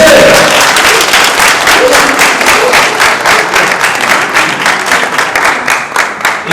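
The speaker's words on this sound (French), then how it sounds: "Applaudissez." A studio audience at a televised spelling competition claps loudly and close, the individual claps falling into a fast, fairly even rhythm that stays strong throughout.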